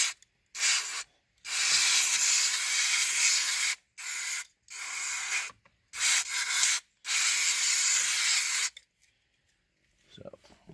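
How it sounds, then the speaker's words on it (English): Aerosol can sprayed down into the horn area of a 1999 Toyota Sienna, loud hissing bursts of varying length separated by short silences, close up. "And we're going to spray that down in there."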